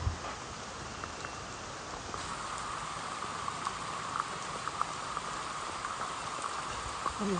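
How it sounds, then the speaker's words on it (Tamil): Steady heavy rain falls continuously during flooding in Jaffna, Sri Lanka, a dense hiss with scattered droplet ticks and spatters, even in loudness throughout. "மழை வந்து பார்த்தீங்கன்னா குறையிற மாதிரியே இல்லை பெய்து கொண்டே இருக்குது"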